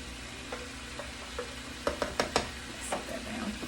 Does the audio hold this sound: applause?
no